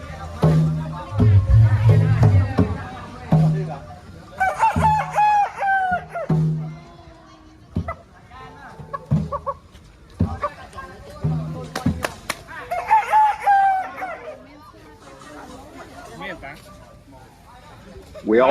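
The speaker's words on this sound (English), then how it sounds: "this is one example of our famous Cambodian rooster" A Cambodian rooster crows loudly several times in drawn-out, wavering calls, with short gaps of quiet between them and voices mixed in.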